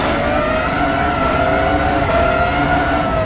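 A 2000 Red Bull Formula 1 car in a racing video game, its engine held at a high, steady scream with sustained tonal whine and slight pitch drift, loud and continuous with no talk.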